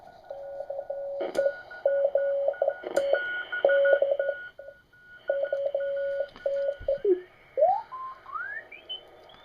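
Amateur radio signals tuned on a Century 21 transceiver in the 40-meter band: steady on-off carrier tones and beeps, with a rising whistling heterodyne sweep near the end and no talk.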